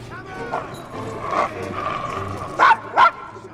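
A dog in Assassin's Creed Syndicate barks a few times, two sharp close barks standing out near the end after fainter yips, with voices and street ambience underneath.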